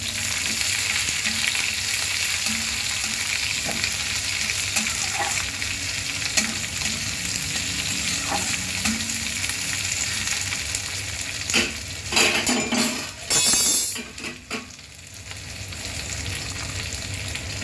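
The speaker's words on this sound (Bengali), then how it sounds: "এরপর আমি দিয়ে দেবো পেঁয়াজ কুচনো, আর কাঁচা লঙ্কা কুচো," Chopped onion and green chili fry in a hot pan with a constant loud sizzle, and a few stirring scrapes and clatters come near the end.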